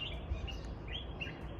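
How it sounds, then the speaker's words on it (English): Birds chirp before sunrise in the Gambia, thin high tweets repeating over a low steady hum of background noise, faint and at a distance. "But the birds are making noises"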